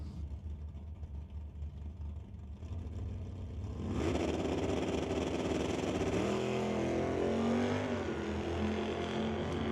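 A Chevrolet Malibu wagon drag car at an eighth-mile drag strip, engine idling and rumbling before breaking into a loud, sustained roar as it launches, the pitch climbing steadily as it pulls away.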